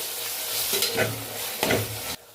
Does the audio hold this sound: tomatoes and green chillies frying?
yes